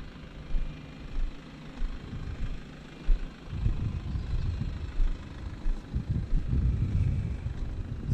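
BMW 3 Series G20 320d diesel saloon on the move, a low steady engine drone from inside the cabin with rumbling road noise that grows busier toward the end.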